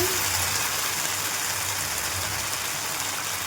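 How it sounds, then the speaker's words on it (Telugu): Lentil-style batter poured onto a hot pan sizzles loudly, a dense, even hiss like heavy rain that holds steady throughout. "ఇలా ఒక పెనంలో వేడైనాక పప్పులాగా వేసుకోవాలి"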